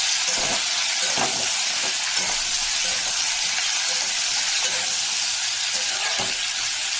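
Vegetables with green chillies and panch phoron spices frying in a pan, a steady loud sizzle throughout with faint stirring scrapes, no voices.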